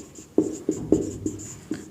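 Chalk or marker writing on a classroom board during a science lesson on concave and convex mirrors: five short, irregular tapping strokes, close and fairly clear, with no talking over them.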